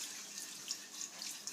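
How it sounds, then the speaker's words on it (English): Milk being poured into a seasoned white sauce for cabbage casserole, a steady soft trickling and splashing stream that stays even throughout, close and alone. "I'm going to start pouring my milk in"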